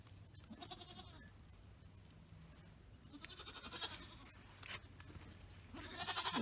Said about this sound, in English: Oh, goat babies.